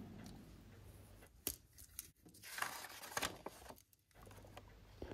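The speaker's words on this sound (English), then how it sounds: "With the shapes marked out, I use my penknife scissors to cut them out." Small penknife scissors snip through paper templates up close, with quiet repeated cuts and rustling of the sheet, no talking.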